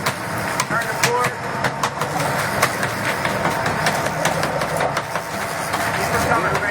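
A tuna fishing boat's starboard engine rumbles steadily at low revs on the water, a constant throbbing drone with rattling knocks, while people talk over it.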